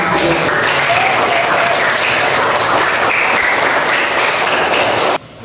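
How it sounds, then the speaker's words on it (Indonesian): Audience applause in a classroom setting during a school lesson, steady dense clapping that stays loud throughout and stops abruptly near the end. "Berikan tepuk tangan untuk mereka yang telah."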